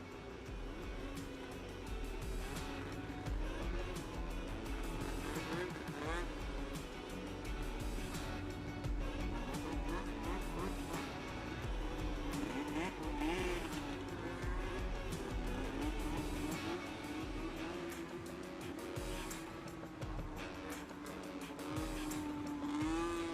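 Vintage snowmobiles racing around an ice oval track, their two-stroke engines whining and droning continuously as they rise and fall while circling at mid distance, with faint announcer talk mixed in.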